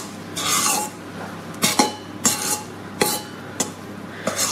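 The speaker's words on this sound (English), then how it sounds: "I'm just going to stir in the sides" A spoon stirring and folding meringue mixture in a bowl, giving a string of short clinks and scrapes against the bowl at an uneven rhythm, close by with no talking.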